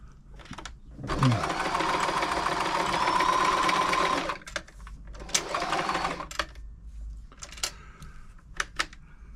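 A Frister & Rossmann 904 sewing machine stitches in a loud, continuous run of about three seconds. Shorter bursts and scattered mechanical clicks follow, close and clear.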